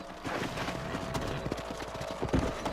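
Horse hooves clip-clopping on a ranch trail in the Red Dead Redemption video game, a steady rhythm of moderate, fairly close hoofbeats under faint ambient game sound, with a voice briefly heard.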